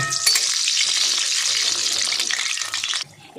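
Steady, loud sizzle of five kheer gokul pithas (rice cakes) frying in hot oil, a dense crackling hiss that runs unbroken for a few seconds before dropping off near the end.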